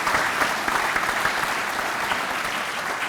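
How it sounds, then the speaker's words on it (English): An audience at a police academy graduation ceremony applauds the graduates' families, giving a steady, dense round of clapping that fills the hall without pause. "please join me in a round of applause to all of our families"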